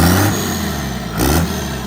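A Cummins diesel engine in a mostly stock truck with a small tuner revs and pulls on a test drive, a loud close engine roar rising and swelling twice within two seconds.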